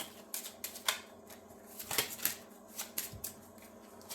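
A deck of expedition cards for a board game being shuffled by hand, a run of quick riffling flicks and soft snaps at close range, with no voices.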